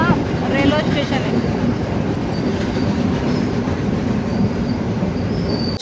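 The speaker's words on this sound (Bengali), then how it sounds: "চলে আসলো আমাদের ট্রেনটা।" A train pulls into Aluthgama railway station in Kalutara district, Sri Lanka, beside the Bentota river. Close, loud rumbling and rolling clatter continue throughout, with high wheel squeals near the end and faint voices in the background.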